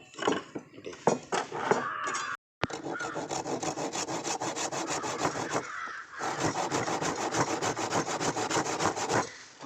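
Hand saw cutting through a wooden table leg for a joint, a steady run of rapid rasping back-and-forth strokes, close and distinct, with one brief pause before the sawing resumes and continues evenly.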